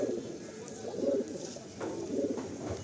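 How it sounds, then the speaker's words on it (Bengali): Pigeons in a loft give two soft, rolling coos about a second apart, near and fairly quiet, with light rustling between them. "খুব সুন্দর পায়রা"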